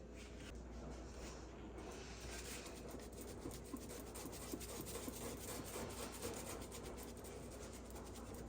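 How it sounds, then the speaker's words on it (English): A wool cloth scrubbed against the grain of stainless steel with bleach, faint rhythmic rubbing strokes repeating steadily and close by, with no talk. "I'm going to use a wool cloth, and I'm going to scrub it going against the grain"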